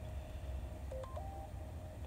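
A phone gives off short electronic notification tones, a few brief beeps close together midway through a faint, steady background hum.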